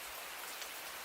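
Rain falls at a campsite at night, a dense, even hiss of drops striking surfaces, continuous and close with no voices.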